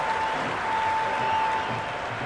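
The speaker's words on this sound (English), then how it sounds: "It's evident and ever so audible that the crowd is at near bursting point at today's play." Stadium crowd roaring and applauding after a boundary at an India v Pakistan men's T20 World Cup match, a dense, steady wall of cheering that holds loud throughout, with a faint tone running underneath.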